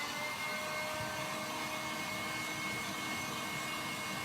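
A heat gun warms WoodUbend moulding with a steady, unbroken blowing hiss that runs through the whole short stretch at a fairly low level.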